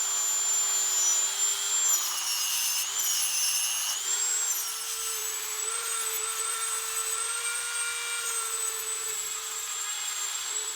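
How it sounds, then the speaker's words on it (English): A Dremel rotary tool running polishing discs against brass hubs for a ship's wheel, a steady high-pitched whine with grinding friction that holds loud and continuous throughout, pitch dipping slightly as the load shifts. "I've decided to try these polishing discs on the Dremel to start with."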